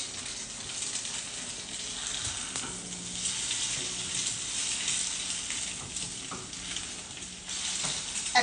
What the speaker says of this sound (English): first I gotta flip these eggs